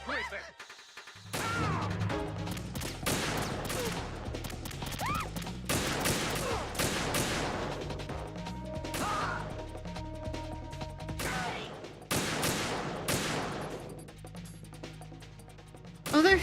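Gunfire and impacts from the video game Metal Gear Solid 2, with loud bursts of shots and crashes repeating in clusters over a busy, continuous game soundtrack.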